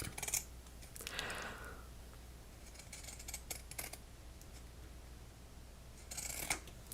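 Scissors with a pinked edge cut through craft paper in a few crisp snipping bursts separated by quieter rustling, close and fairly soft.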